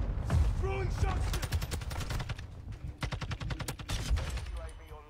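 Rapid gunfire in the Call of Duty video game, repeated automatic bursts close and loud across the whole stretch with game effects between volleys.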